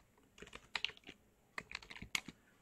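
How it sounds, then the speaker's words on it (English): Quick typing on a computer keyboard, two short bursts of close, crisp key clicks separated by a brief pause, fairly quiet overall. "I wanted to type anniversary for wallpapers"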